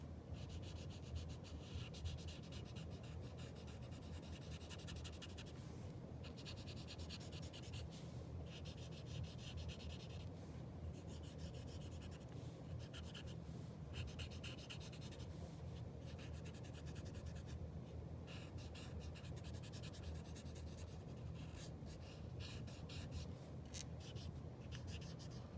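Pencil rubbing on paper as graphite shading is smoothed while drawing a nose, a continuous faint soft scratching and swishing with periodic brief pauses, close up and without speech.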